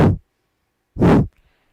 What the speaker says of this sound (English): where we squeeze and snap the belly in each time we exhale in a rhythmic pattern